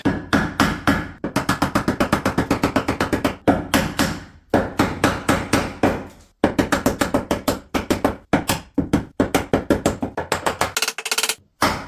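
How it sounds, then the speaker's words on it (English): Rapid, steady hammer strikes driving nails into wooden noggings on a vertical stud-wall column, loud and close, in long runs of evenly spaced blows broken by brief pauses. "I'm just hammering away the noggings on this vertical column"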